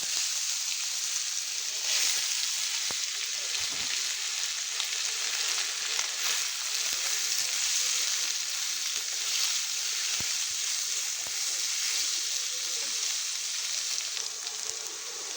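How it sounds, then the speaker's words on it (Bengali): Mushrooms and potatoes fry in well-heated oil with a steady, dense sizzle and crackle that runs unbroken from start to finish, close and fairly loud, with a few sharper pops now and then. "এবার মাশরুম আর আলুটা ভেজে তুলে নিব।"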